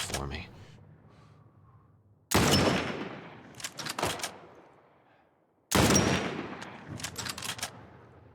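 Companions firing at enemies in The Last of Us Remake, two sharp loud gunshots each followed by a few quicker trailing shots and a decaying tail, with quiet gaps between.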